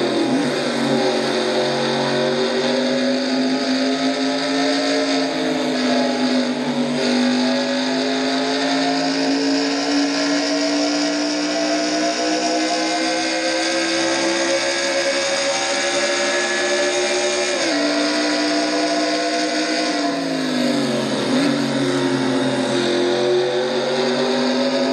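Onboard sound from the number 26 Fletcher State Ford race car on a Watkins Glen-style road course: a loud, steady engine drone rising and falling through gear changes and braking, continuous with no talk.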